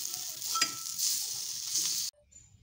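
Flat sim beans fry in a hot pan while being turned over, a close, steady sizzle with scraping stir strokes that stops abruptly near the end, no one talking.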